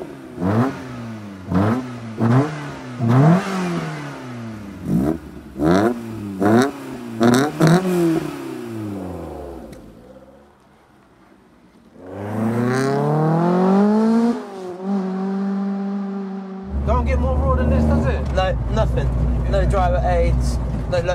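A 36-year-old Peugeot 205 GTI with no sound deadening accelerates through a series of rising engine revs and gear changes, followed by a longer pull and a loud idle at the end, with people talking over the first part.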